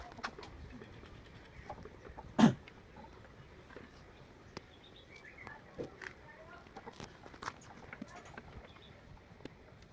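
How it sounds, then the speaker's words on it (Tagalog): Assorted birds calling outdoors, scattered short chirps and calls at moderate distance, with one sharper louder call early on over a quiet background. "Parang may iba-ibang ibon lang."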